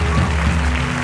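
A church congregation claps and cheers in acclamation, a dense, steady wash of applause with voices mixed in, close and loud throughout.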